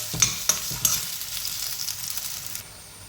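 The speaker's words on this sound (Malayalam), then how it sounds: "ഇനി ഇതിലേക്ക് നമ്മൾ അരിഞ്ഞു വെച്ചിരിക്കുന്ന പഴം ഇട്ട് കൊടുക്കാം. അത് ഈ നെയ്ക്കകത്ത് വേവിച്ചെടുക്കണം." Chopped banana frying in ghee, a few sharp clinks and scrapes of a spoon at the start over a close, bright sizzle that eases off toward the end.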